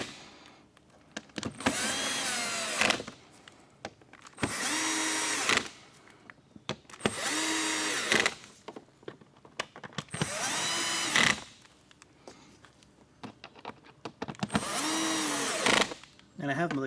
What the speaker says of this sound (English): I have the clutch set on my screwdriver here very low